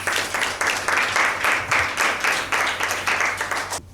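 Enthusiastic applause from a studio audience at a Bible quiz show, a dense burst of clapping that surges in waves and stays loud for several seconds before cutting off abruptly.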